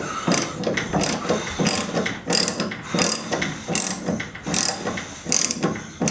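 A half-inch drive socket ratchet is worked on the blades of a John Deere L120 lawn mower, giving about a dozen bursts of rapid metallic clicking in a steady back-and-forth rhythm, close and loud with no talk.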